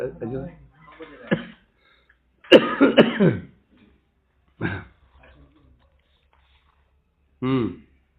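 Several separate coughs and throat-clearing bursts come at irregular intervals, with quiet pauses between them, close to the listener.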